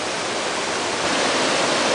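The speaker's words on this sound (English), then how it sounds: "Nice little waterfall at that locust crossing." A small waterfall at a creek crossing rushes in a steady, loud, close roar of broadband white water, unbroken and alone.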